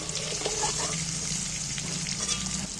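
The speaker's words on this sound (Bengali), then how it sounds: "কপিগুলো আমার লাল লাল করে ভাজা হয়ে গেছে" Cauliflower florets frying in oil until reddish-brown for an egg and cauliflower dish, a steady, dense, close sizzle and hiss throughout with no talk.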